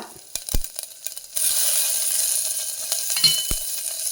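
Mustard seeds, ginger, green chili and curry leaves hit hot oil, a few sharp taps and clinks giving way to a loud, steady sizzle close by.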